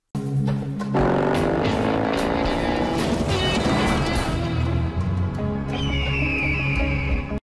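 A car accelerates hard in a Dior Sauvage perfume commercial, a loud, continuous engine roar rising in pitch over several seconds, with a music-like tonal layer joining near the end.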